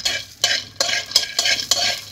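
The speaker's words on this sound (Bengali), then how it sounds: "এবার একটা কড়াতে আমি পুরেতে দেওয়ার জন্য বাদামকে এইভাবে শুকনো খোলায় নেড়ে নেব" Dry peanuts stirred in a wok (kadai) with no oil, giving repeated scraping, rattling strokes roughly every third of a second, close and fairly loud, with no voices.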